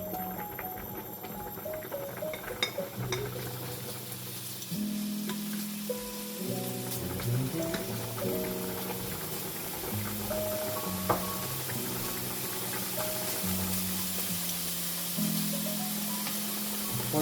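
Chicken sizzles and fries in a hot pan sprayed with a little oil, a steady close crackle with scattered pops and some scraping and clatter of cookware, no talk.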